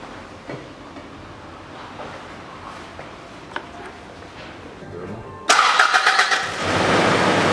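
A 2000 Toyota Noah with a 3S-FE engine cranks and starts after an automatic transmission oil change, giving a sudden loud roar that settles into a steady idle after several seconds of quiet workshop background.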